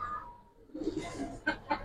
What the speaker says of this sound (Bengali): এটা ভাই ডাইরেক্ট পাল্লার কবুতর